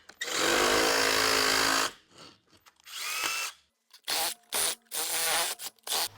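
A reciprocating saw cuts through material, running in a loud sustained burst at first, then a series of shorter start-stop cuts with brief pauses between them.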